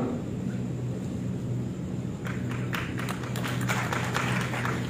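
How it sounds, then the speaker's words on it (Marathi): Audience at a Marathi political speech by Prakash Ambedkar breaking into scattered clapping midway through, the applause swelling over a steady low hum of the hall's sound system. "टाळ्या वाजू नका"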